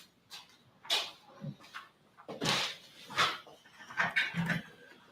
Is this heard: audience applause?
no